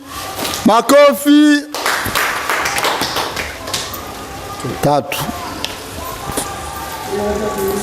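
Pupils in a classroom at Ali Hassan Mwinyi Islamic Primary clap in short, rhythmic bursts of tapping, loud and close. Voices speak and call out between the rounds.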